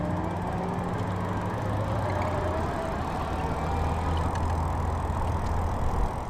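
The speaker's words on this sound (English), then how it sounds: "I'm going to start out with the throttle here just so you can hear the motor on its own." Easy Motion Nitro City electric bike running on throttle alone, giving a steady, even motor whine over continuous road and wind noise, close and constant for several seconds.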